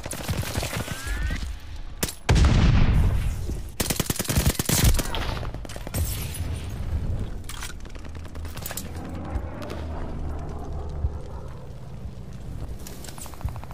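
Loud automatic and single-shot gunfire in Call of Duty Vanguard multiplayer on the Hotel Royale map, with a heavy burst and booms early on, then rapid volleys easing into quieter scattered shots and game noise.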